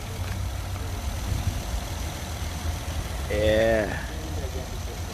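A new Inspire car's engine idles with a low, steady rumble close by, while someone briefly speaks over it partway through.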